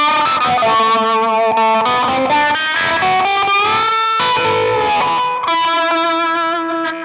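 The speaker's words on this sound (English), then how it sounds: "there's some slapback echo on it, and you bring the wah into it" Distorted electric guitar with a wah pedal and slapback echo plays a layered solo, loud sustained notes sweeping and bending over several seconds with a shimmering effects-heavy tone and no talking.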